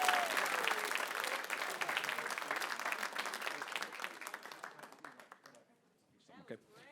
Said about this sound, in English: round of applause for Owen the King